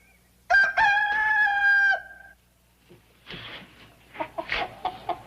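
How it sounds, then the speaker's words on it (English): A chicken crows loudly and close for about two seconds, followed by a run of short, busy clucks and squawks in a rural home setting. "If there's one thing I can't abide, it's a pushy chicken."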